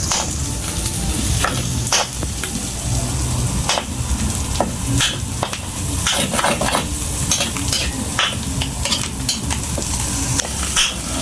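Onions sizzle and fry steadily in a hot pan for a New Year's feast dish, with scattered utensil scrapes and clinks over a continuous close sizzle, no talking.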